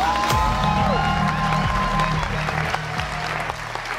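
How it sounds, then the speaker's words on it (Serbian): Loud, sustained applause from a conference audience welcoming a speaker to the stage, dense clapping filling the room and gradually thinning toward the end. "Jednim velikim aplauzom pozdravite Marka Pavlovića."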